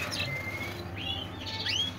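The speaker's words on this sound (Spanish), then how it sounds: "aquí otra tralla de pajaritos" Young canary chicks in a breeding setup give thin, high chirps, a few short rising and falling calls over two seconds against a low steady hum.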